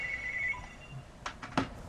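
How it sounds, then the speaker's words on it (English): A mobile phone rings with a fairly quiet tonal ringtone that fades into a few sharp clicks and knocks nearby. "oh my god, my phone starts ringing right now"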